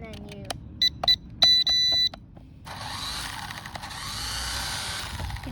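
An X Pack 18 drone controller gives several short electronic beeps as it switches on, followed by a steady whirring hum, with faint background noise.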